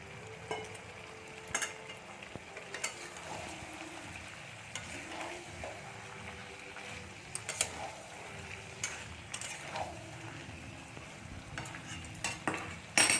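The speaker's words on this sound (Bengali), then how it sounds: "চলুন বন্ধুরা চিকেনটাকে ভালো করে কষিয়ে নিই" Chicken pieces are stirred and sautéed in a pan for kosha, a low steady sizzle under repeated scraping and clinking of the spoon against the metal at an uneven pace, close by.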